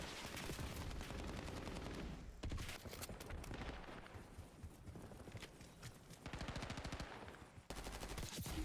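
Submachine gun fire in Call of Duty Black Ops comes as loud, rapid automatic bursts, several long strings of shots separated by short pauses.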